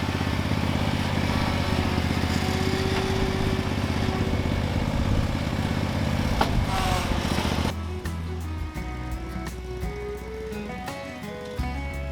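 Lawn mower cutting grass in the early morning, a continuous droning engine rumble that shifts to a lower, rougher tone partway through, moderately close with no speech.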